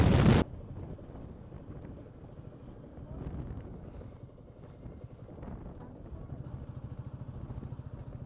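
Wind rushes past a Royal Enfield Meteor 350 on a highway ride toward Bangalore through windmill country, a fairly quiet, steady buffeting over the low engine hum after a brief loud burst at the start.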